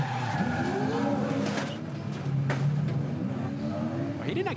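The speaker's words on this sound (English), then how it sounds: "you heard that initial contact with he and Tyler Everingham." Onboard Super2 race car at the Townsville SuperSprint, engine note rising and falling through a brief contact and tyre skid, with some faint background voices over the loud mechanical noise.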